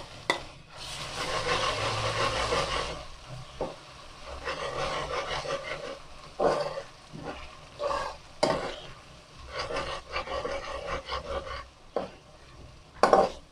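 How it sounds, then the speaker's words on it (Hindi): Onions sizzle and fry in a pan while a spoon scrapes and stirs them in repeated bursts, with a few sharp clinks of metal against the pan and a steady hiss underneath. "और इधर हमारे प्याज भी फ्राई हो रहे हैं।"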